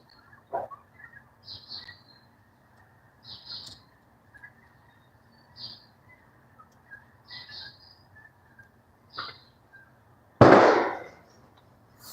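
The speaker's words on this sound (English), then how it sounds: "people be shooting ducks out here left and right" A few distant gunshot pops from duck hunters, then one loud sharp bang near the end, with birds chirping intermittently in the background.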